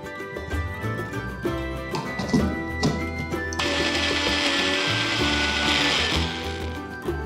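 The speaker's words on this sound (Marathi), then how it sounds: "पाण्याचा अजिबात वापर न करता मिक्सरमध्ये याची छानशी पेस्ट तयार करून घ्यायची" An electric mixer grinder blends a thick paste with no water added, a steady loud whirring grind that begins partway through and runs to the end over background music.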